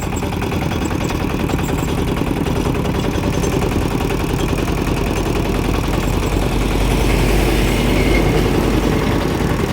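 A large vehicle's engine drones loudly and steadily from close behind, a low heavy rumble that swells slightly toward the end, with no one speaking.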